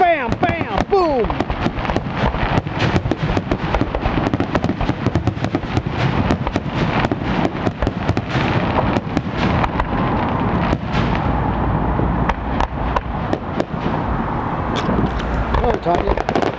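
Fourth of July fireworks over the Columbia River: rapid, continuous booms and crackling bursts from a distance, with voices faintly mixed in.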